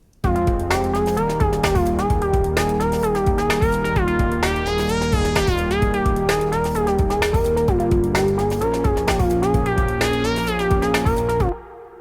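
Lead patch from a Novation Peak synthesizer, a bright, steady melodic line with shifting harmonic tones over a rhythmic low pulse, loud and continuous for about eleven seconds before stopping abruptly.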